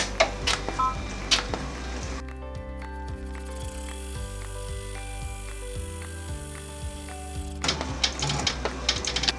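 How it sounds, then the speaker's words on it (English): An embroidery machine sews a placement stitch on tearaway stabilizer for a Halloween treat bag, a fast, even mechanical chatter with a steady pitch that runs for several seconds between quieter handling sounds, close by. "put this into the machine, and we're going to run our very first placement stitch"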